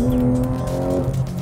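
A race car slows into a corner, its engine note falling in pitch as it decelerates, loud and close, with some tire noise under the engine.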